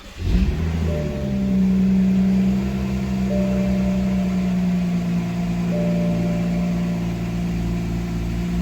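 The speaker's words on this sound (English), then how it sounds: "I'm going to start the car." A BMW engine with a fault code cranks and catches with a sharp burst, then settles into a steady, close idle hum with a faint recurring tone.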